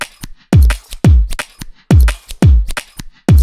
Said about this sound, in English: by putting on some space blend short reverb.